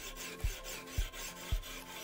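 Knife being sharpened on a KMFS Vantaedge fixed-angle sharpening system, with three evenly spaced rasping strokes of the blade across the stone, close and quiet.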